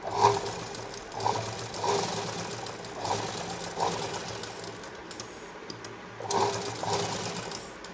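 A sewing machine stitches a sleeve onto a katori blouse in repeated short runs of close, rapid whirring, pausing briefly between bursts.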